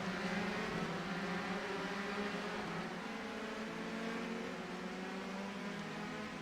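Several race cars in a video game Grand Prix at Austria circle in a tight pack, a steady, fairly faint layered engine drone running throughout with no clear pass-bys.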